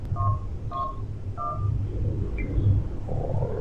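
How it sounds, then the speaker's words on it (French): Several touch-tone telephone dialing beeps to emergency services in a video game, set in a snowstorm in Russia's Leningrad Oblast, pressed one after another over a low engine-like rumble, followed by quieter background noise. "Je prends le téléphone. Je compose le numéro des secours."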